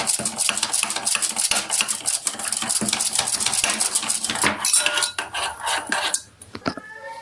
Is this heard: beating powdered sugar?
yes